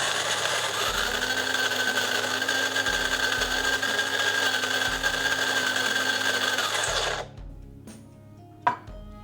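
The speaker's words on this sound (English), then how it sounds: "First, you'll want to set your bean grinder 2 notches above its finest setting, usually labeled for espresso." An electric coffee bean grinder, set two notches above its finest espresso setting, whirs loudly and steadily for about seven seconds with a rhythmic low pulsing, then stops, followed by a faint click and a brief knock.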